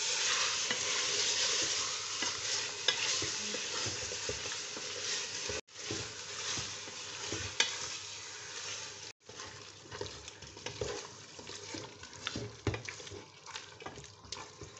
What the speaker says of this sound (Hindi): गोश्त को मैं 5 मिनट भून के फिर इसको पानी लगाऊंगी गलाने के लिए।